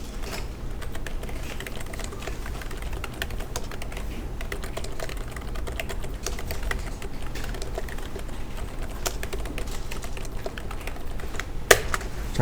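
Steady keystrokes on a computer keyboard while text values are entered into AutoCAD, a close, continuous patter of clicks running throughout with no talking.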